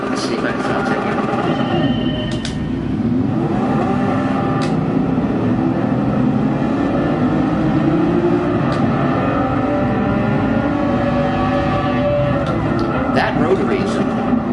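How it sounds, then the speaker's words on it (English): Rotary-engined race car in Gran Turismo Sport, racing an endurance event at the Nürburgring, roars loudly and continuously with shifting engine pitch throughout, while someone talks over it. "That rotary is loud."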